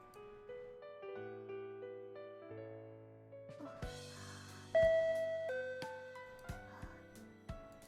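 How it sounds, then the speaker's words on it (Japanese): Intercom doorbell chimes ring out over and over in quick succession, each two-tone ding-dong stacking on the last as the button is pressed repeatedly, fairly loud and close with a brief clatter of overlapping tones. "先輩はインターホン連打しててください。"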